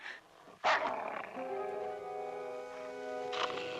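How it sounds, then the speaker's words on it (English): A dog gives one sharp, loud bark up close, followed by a lingering tonal hum and another faint bark near the end. "You didn't tell me about your attack dog."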